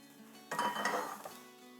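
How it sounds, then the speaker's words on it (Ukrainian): A metal frying pan clanks and scrapes once against a stovetop or dishes, a short, close clatter in a quiet kitchen while making borscht. "Тепер беремо іншу сковорідку"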